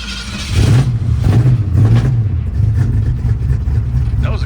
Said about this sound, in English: good backfire too.